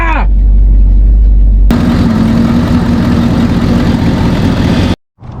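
A 1966 Ford Thunderbird, revived after sitting for years, runs loudly and steadily at a close idle after a brief start, its low mechanical drone holding even until it cuts off abruptly near the end.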